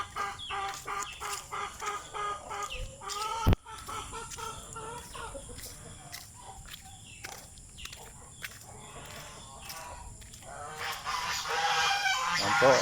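Backyard farm geese honk repeatedly in loud, harsh bursts, several birds calling at once against an outdoor background with a steady high hum.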